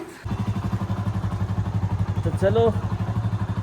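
A motorcycle engine idles with a steady, pulsing chug, close by, while a voice speaks briefly over it.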